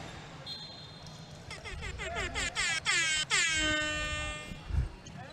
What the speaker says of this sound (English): that's the rap air horn